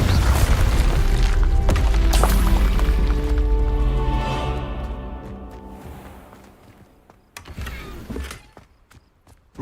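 Deep booming blast of the Confringo explosive spell in Hogwarts Legacy, a loud burst with rumbling low end that decays over several seconds into quieter ambience, with a few sharp clicks near the end.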